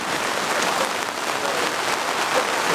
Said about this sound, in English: This is how much it's raining right now.